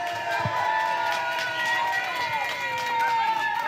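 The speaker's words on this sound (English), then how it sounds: "Show them support, big round of applause to them." Crowd at an anti-ULEZ rally in Trafalgar Square, London, cheers and whoops loudly outdoors, a sustained roar of many voices with whistling tones over it.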